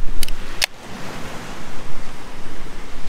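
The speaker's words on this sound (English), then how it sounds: "And just watch the waves go by." Ocean surf washes continuously and fairly loudly on the Greek coast, a broad hissing wash with wind buffeting the microphone, after two brief sharp clicks at the start.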